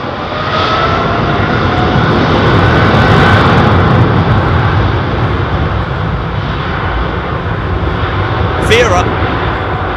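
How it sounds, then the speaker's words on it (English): A Virgin Atlantic Airbus A330neo jet passes with a loud, sustained engine roar that stays steady throughout, with a brief higher whine near the end and a voice talking over it. "Virgin's 330 Neo."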